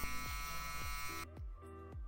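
An Oral-B iO8 electric toothbrush runs close by with a steady high motor whine and buzz, pulsing at regular intervals and dropping to a softer hum partway through, with no talking.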